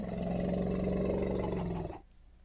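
A video-game elephant in the Minecraft-style Mochicraft lets out a loud, engine-like rumbling roar that holds steady for about two seconds, then cuts off abruptly into near silence.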